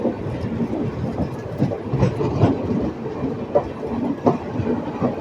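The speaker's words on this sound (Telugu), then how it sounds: "Just అవుటర్లో Kakinada port Sainagar Shirdi express అనేది మనని క్రాస్ చేసుకుంటూ వెళ్తుంది." The Kakinada Port–Sainagar Shirdi Express crossing on the next track at a station's outer, heard from another train as a steady low rumble with rhythmic wheel clatter, close and continuous without talk.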